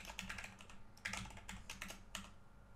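Fast typing on a computer keyboard while entering a name and password into an account sign-up form: quiet, close clicking keystrokes in quick bursts, alone without any voice.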